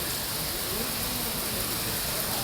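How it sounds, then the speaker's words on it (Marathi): Steady rain falls outdoors on a cool monsoon day, a continuous broadband hiss that stays even and fairly loud throughout with no voices. "पाऊस पडतो आहे"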